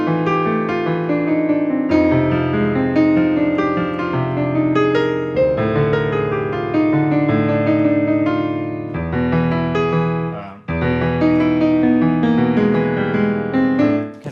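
Dense piano-like music played in a clashing wrong key signature, two parts sounding at once in a continuous loud stream with a brief break near the end, no talking.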